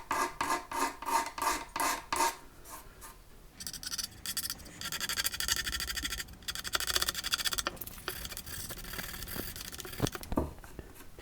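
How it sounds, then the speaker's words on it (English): A hardened repair on the binding of an ES 335 guitar is scraped with quick, rasping strokes, rhythmic at first and then a longer continuous rub, close and clear with no talking. "I'm just literally going to give it a quick scrape over."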